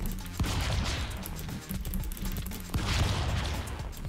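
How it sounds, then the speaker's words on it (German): Bursts of rapid gunfire from the Stick Fight video game, dense overlapping shots roughly throughout, with a sharper crack near the start and again near 2.7 seconds, fairly loud against a busy backdrop. "Oh, ein Schuss, ey."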